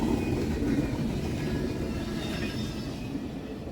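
An empty rubbish train rolls past on a rainy day in Berea, Ohio, a steady broad low rumble of wheels and cars held at constant loudness throughout, with faint high tonal squeal above it and no talking.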